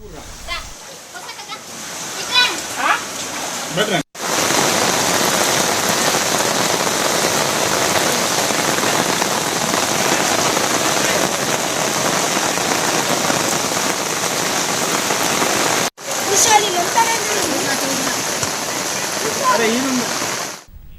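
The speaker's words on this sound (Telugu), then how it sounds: "మంచిర్యాల జిల్లా మందమరి మండలం కుండపోత వర్షంతో తడిసి ముద్దవుతోంది" Torrential rain pours down in Mandamarri, Mancherial district, a dense, loud, continuous hiss of rain on surfaces that starts abruptly after a few seconds of speech and runs almost uninterrupted to the end.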